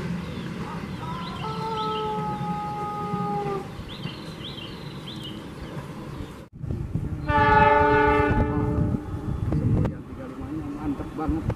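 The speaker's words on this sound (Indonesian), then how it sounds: "Kereta api Parsel baru saja melintas langsung stasiun Cibatu." A parcel train passes straight through Cibatu station at speed: a steady rumble with whistle tones, a sudden cut, then a loud, close horn blast over heavy rolling rail noise, with voices audible.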